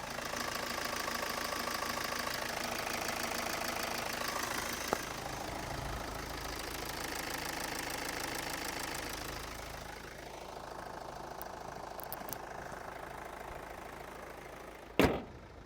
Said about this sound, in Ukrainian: Бачите, зараз на мікрофона, щоб було краще чути мотор.